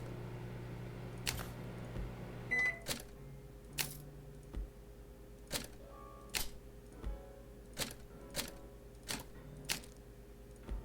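A microwave oven in the game My Friendly Neighborhood runs with a faint, low steady hum, with a short beep and a string of soft, regularly spaced mechanical clicks layered on top.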